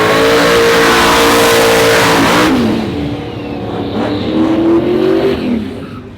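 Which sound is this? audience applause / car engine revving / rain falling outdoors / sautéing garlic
car engine revving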